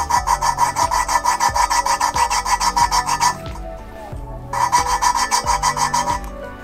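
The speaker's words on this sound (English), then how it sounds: "I'm taking this tool, which is a suction cup with a stick on it, and I just basically suction it to the valve, and then you just spin it." An engine valve from a BMW 2002 build is lapped with a suction-cup stick tool and grinding paste, giving rapid rhythmic gritty rasping strokes in two bursts separated by a short pause, close and clear.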